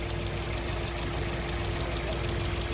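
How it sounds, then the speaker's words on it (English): Toyota Corolla engine idling steadily with propane added to the intake, a constant close rumble with a faint hum as it begins to bog down. "you can hear the motor starting to bog down from all that fuel"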